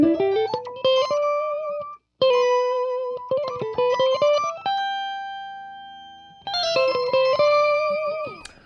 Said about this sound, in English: Reverb, but it is delay with reverb.